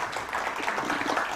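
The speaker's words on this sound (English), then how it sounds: "Let's have once more a huge round of applause." A crowd at a company stock listing ceremony applauds in a dense, steady wash of clapping that holds level throughout, moderately close.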